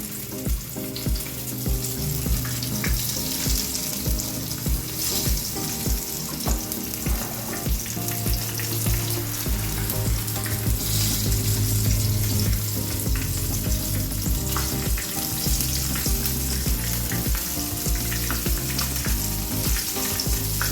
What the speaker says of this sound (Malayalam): ഞാൻ വെളിച്ചെണ്ണയിലാണ് വറക്കുന്നത്.